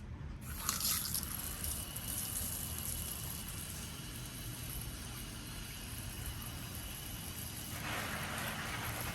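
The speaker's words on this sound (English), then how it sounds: "I'm going to go ahead and hook up the spiral garden hose from Walmart and water this Dieffenbachia" A spiral garden hose from Walmart sprays water onto a Dieffenbachia, a continuous close hiss and splatter lasting nine seconds with a brief burst near the start and a brighter spray near the end.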